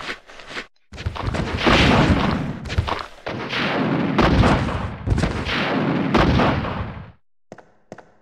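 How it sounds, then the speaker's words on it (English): Rocket launcher blasts and explosions in the video game Resident Evil 2, a series of heavy booming detonations with rumbling tails in quick succession, loud and dense, ending in brief silence. "I've earned this rocket launcher and you're all going to feel it."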